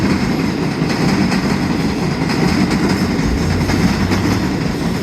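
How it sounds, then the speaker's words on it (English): An Amtrak or Long Island Rail Road train rolls past near Hunters Point Avenue station into a tunnel, a loud continuous rumble of cars and wheels with a low engine tone rising toward the end. "And we have another train. It's either Amtrak or Long Island Railroad. It just went into the tunnel, and there's another one behind it."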